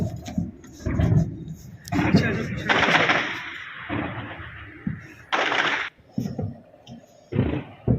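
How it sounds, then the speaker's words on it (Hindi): Gunfire and shelling on the India-Pakistan border sound as a run of rough, booming bursts and rattling cracks, some sustained and some abrupt, broken by brief lulls. "इस वक्त वहाँ पे एक शेलिंग चल रही है"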